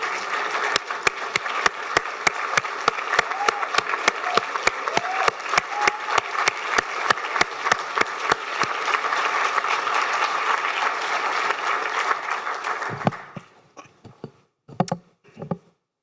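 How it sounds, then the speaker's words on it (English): At a global health equity symposium, a large audience claps steadily for a steering committee for about thirteen seconds, with a few sharp individual claps standing out, before the applause breaks off into scattered, isolated claps. "so then you can give them a real round of applause."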